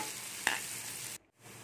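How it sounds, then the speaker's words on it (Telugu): Cumin, mustard seeds, green chilli and onion fry in oil in a kadai, a steady close sizzle with one sharp click, then a sudden brief cut before the hiss resumes. "జీలకర్ర, ఆవాలు, పచ్చిమిర్చి, ఆనియన్ వేసి ఫ్రై చేసుకోవాలి"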